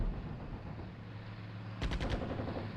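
Howitzer artillery fire in the Cold War wargame Armored Brigade 2: a quick cluster of four sharp, loud reports near the end, bursting over a steady low battlefield rumble with no talk.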